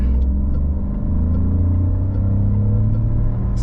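A Peugeot 2008 with an Aisin automatic gearbox accelerates, giving a steady, loud low engine drone and road rumble from inside the cabin that holds even throughout with no one speaking.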